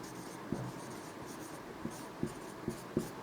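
Chalk or marker taps and scratches across a board as the word for propane is written, a handful of soft strokes with brief clicks under quiet room noise.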